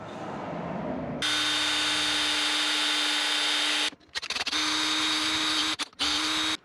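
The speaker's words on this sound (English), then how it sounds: "we're gonna drill some holes" A power drill drills holes in a metal plate, whining steadily at close range with a high pitch, stopping briefly twice before starting up again, and no one speaks.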